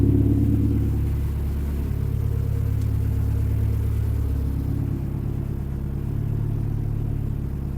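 Saab engine idling at operating temperature, coolant above 87 degrees: a low, steady, even rumble throughout, moderately quiet with no revving.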